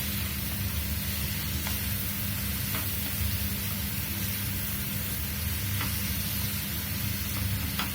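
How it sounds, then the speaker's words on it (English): Onion fries in mustard oil in a pan with a steady, soft sizzle that runs on evenly with a few faint clicks and no talk. "So while the onion gives it a light fry"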